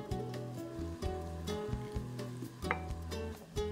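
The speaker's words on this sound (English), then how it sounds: "Now, turn the heat to high and bring it to a boil." Salmon hot pot broth with seaweed heating on high toward a boil, giving a quiet sizzling, bubbling texture with soft knocks and stirring clatter, close and low in level with no voices.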